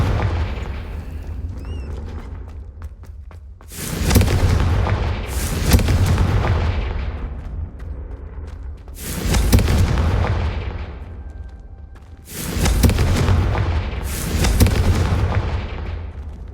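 Confringo explosion spells in the video game Hogwarts Legacy, five heavy booming blasts with fading rumbling tails, arriving in irregular succession and standing alone without speech.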